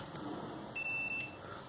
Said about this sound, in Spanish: en la escala de continuidad, que es esa, la que hace el bip